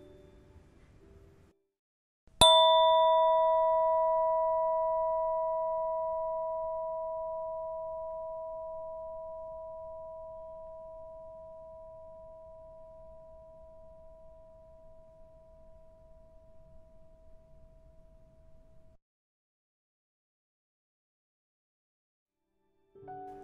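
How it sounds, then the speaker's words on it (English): A single bell struck once, ringing with a clear, pure tone that slowly fades over many seconds until it dies away into silence. "You will hear the sound of a ringing bell."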